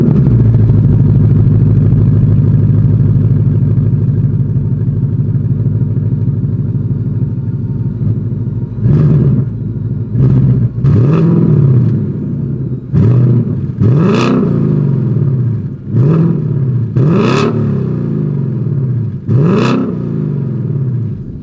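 A 2023 Ford Mustang GT with active valve exhaust idles with a deep steady rumble, then blips its throttle in a run of about seven sharp, loud revs that rise and fall back quickly.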